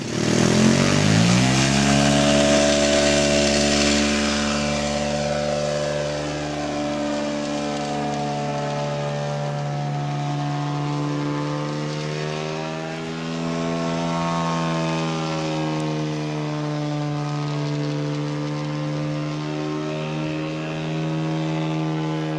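A small high-pitched model aircraft engine on a 40% scale Jungmeister aerobatic biplane drones loudly and continuously, revving up at the start then holding a steady buzzing whine.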